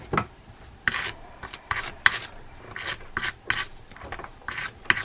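A brush scrubs old dried grease off the gears of a Ray Scott US fishing reel. Short, rasping strokes repeat at a steady rhythm, up close and fairly loud, with no talking.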